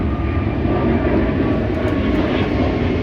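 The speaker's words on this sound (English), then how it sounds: "Another plane" An airplane passes overhead with a loud, steady engine drone that fills the whole stretch, and no one speaks over it.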